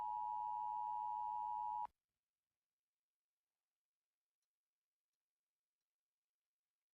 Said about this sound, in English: Anytime that it gets close to a storm, you get a notification of a storm alert,